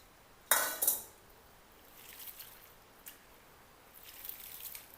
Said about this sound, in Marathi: पाण्यामध्ये मटकी टाकायची आणि स्वच्छ धुवून घ्यायचं मटकीला।